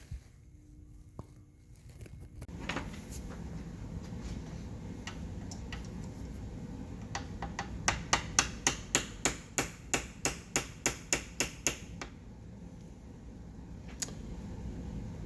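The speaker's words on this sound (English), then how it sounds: "So let's try to tap this apart and hope it's just a little bit of grime in there." A 1959 Case 800 tractor's push rod sleeve is tapped apart with a hammer: a quick, even run of a dozen or so crisp metallic taps, close and fairly loud, over a quiet workshop background.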